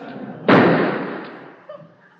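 One sudden loud bang with a long, fading echo, then a fainter knock a moment later; no one speaks.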